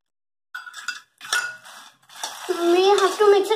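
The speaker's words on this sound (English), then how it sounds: "We have to mix it properly, otherwise it will be on one place only." Roasted makhana is tossed and mixed with chaat masala and salt in a bowl, giving a few short clattering bursts of utensil and dish contact, followed by a longer rustling stir as a voice speaks.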